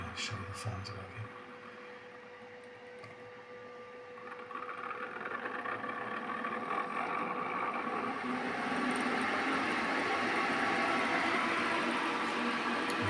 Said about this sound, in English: Let's just start again, show you the fans working.